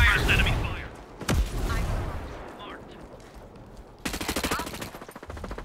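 Enemy gunfire in Ghost Recon Breakpoint, a sharp nearby shot, then later a rapid automatic burst of rattling rounds, with someone talking over the early part amid game effects.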